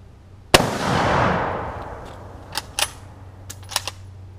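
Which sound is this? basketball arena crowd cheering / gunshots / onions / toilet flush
gunshots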